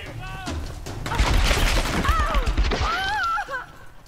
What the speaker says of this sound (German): Aber wir schießen einfach mal ins Leere. Mal gucken, vielleicht könnte die Granate doch etwas anrichten.